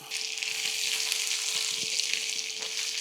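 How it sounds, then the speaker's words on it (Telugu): Onion fries in oil with mustard seeds, cumin and crushed garlic for an egg poratu, a steady moderate sizzle with a faint constant hum beneath it and no speech. "ఉప్పు చల్లి ఉల్లిపాయని డీప్ ఫ్రై చేస్తా"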